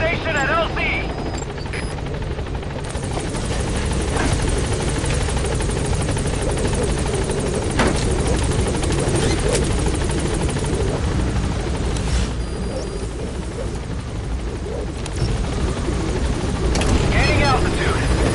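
Pequod helicopter hovering at a landing zone in Metal Gear Solid V: The Phantom Pain, with a steady loud rotor drone throughout and scattered gunfire-like bursts over it. A radio voice talks over the noise.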